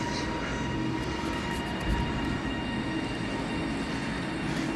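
Train pulling into platform 4 at Carlisle station on the West Coast Main Line, a steady rumble of wheels and carriages with faint squeal, continuous and fairly close, no talking.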